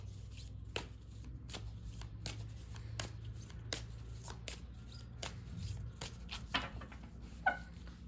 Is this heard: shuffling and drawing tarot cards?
yes